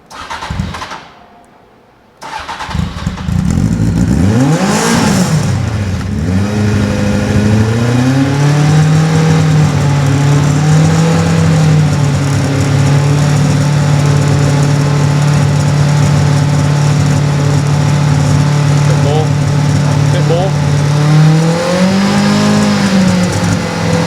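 A kit car engine cranks and starts after a brief pause, revs sharply, then settles into a loud, steady rumble heard about a foot from the exhaust.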